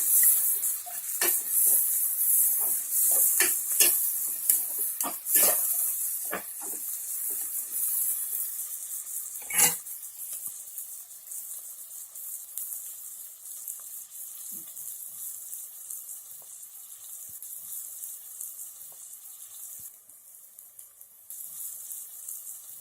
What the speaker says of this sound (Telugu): ఉల్లిపాయల్ని ఈ విధంగా మధ్య మధ్యలో తిప్పుకుంటూ ఉండాలి.